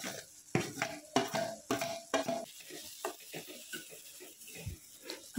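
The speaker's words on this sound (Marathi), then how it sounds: "आणि सतत चमच्याने हलवत राहायचं आहे, नाहीतर रवा तळाला चिटकून करपू शकतो." Roasted semolina is stirred in a pan for sheera, the spoon giving a series of loud rhythmic scraping strokes over a faint sizzle, with no one talking.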